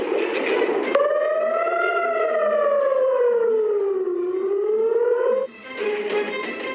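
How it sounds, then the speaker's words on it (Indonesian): An air defense siren wails across the night sky in Israel, a loud, sustained tone that slowly rises and falls before cutting off, with other noise returning afterward. "Sirine pertahanan bergema di langit malam Israel."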